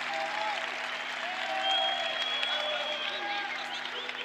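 Crowd applauding and cheering at a European senior karate championship in Zadar, during a men's kumite bout in the 67 kg class; steady distant clapping and crowd noise continue under a commentator's voice.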